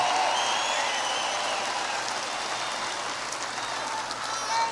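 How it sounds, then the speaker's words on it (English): Rally crowd in Loveland, Colorado applauds in a broad, steady wash of clapping that fills the space evenly, heard from a distance in a large venue. "And another big round of applause for them."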